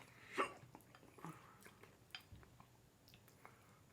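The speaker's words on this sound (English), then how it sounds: "Hiccups." A person eating a shrimp mukbang with raspberry lemonade and ice lets out one sharp, close hiccup early on, followed by soft chewing and mouth sounds.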